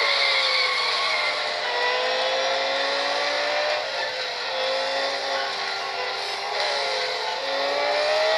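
Porsche race car engine in a racing video game, a steady high-pitched roar held at speed with slight pitch shifts through gear changes, loud and continuous with no talk.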